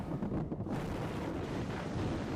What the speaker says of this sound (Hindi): शहर में तेज हवा और आंधी के बाद अब जो है वो गरज चमक के साथ बारिश हो रही है